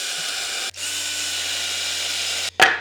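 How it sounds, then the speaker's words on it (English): A hand drill deepens holes in wood, giving a close, steady whirring buzz with a short break and a sharp scrape near the end. "I'm using a hand drill now because I'm gonna, my drill press didn't make these as deep as I wanted to"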